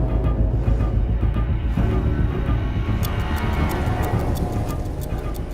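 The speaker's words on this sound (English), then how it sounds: "The consistent ticking noise we hear in the background of the film originated from Christopher Nolan's own watch" Ticking from Christopher Nolan's own watch, woven into the Dunkirk film score, a steady rapid tick repeating under a dense, rumbling orchestral bed for several seconds.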